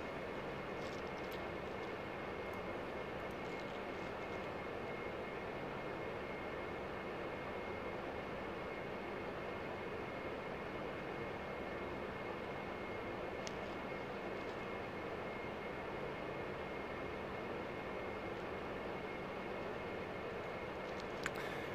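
Steady jet engine roar from a Boeing 737 landing in a flight simulator, a continuous broadband rumble with a faint high whine, holding constant throughout with no talk.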